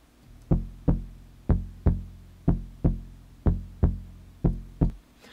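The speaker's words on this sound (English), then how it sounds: "I've got the Moog sub 37 playing some short transients" Short, thick Moog Sub 37 analog synth bass hits in a steady rhythm, each with a sharp click at the start and a quick, punchy decay, played alone.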